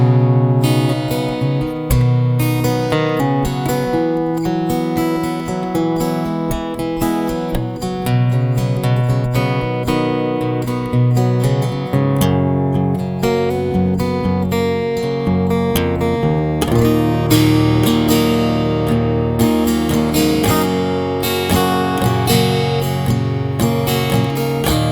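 Ovation acoustic guitar played through its piezo and a K&K Pure Classic pickup blended together, a full, busy stream of strummed chords and picked notes running steadily at close range with no talking.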